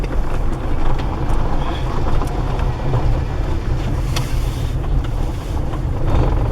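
Steady low rumble of a vehicle moving along a rough road past uprooted trees, a continuous broadband drone with wind buffeting the microphone and no talking.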